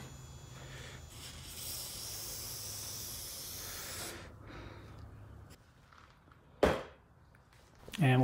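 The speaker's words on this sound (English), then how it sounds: "Use some road racing chain lubrication, give it a quick spray." Aerosol road racing chain lube sprayed onto a kart chain before a race: a steady close hiss lasting several seconds, then quieter handling noises and a couple of sharp clicks.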